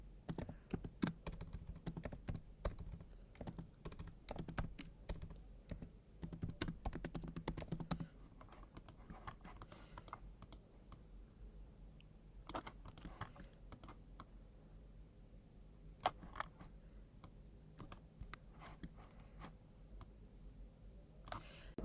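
Computer keyboard keys and mouse buttons clicking at a desk, quiet, close, irregular taps in short bursts with pauses between, no talk.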